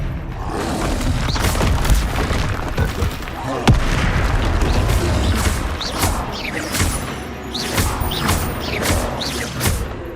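Repeated booming blasts from the Confringo explosion spell in Hogwarts Legacy sound amid chaotic combat, with crashes and thuds layered over a continuous loud rumble.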